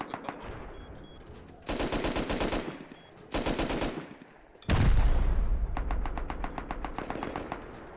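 Automatic gunfire in the online survival game Rust rattles in several long, rapid bursts, loud and close, with a heavier booming burst near the end, while faint talk sits underneath.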